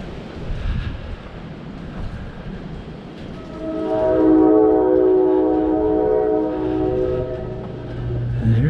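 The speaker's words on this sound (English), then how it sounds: "So I can hear a train on the other line, the main line." A train rumbles past on the main line at a moderate distance, its low steady roar rising midway, with a sustained tonal hum over the wind.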